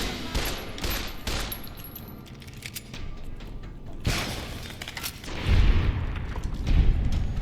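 Automated turrets firing on enemies in Fallout: New Vegas, rapid bursts of gunfire and booming impacts rolling through the clip, heavier and louder toward the end, with no talk over it.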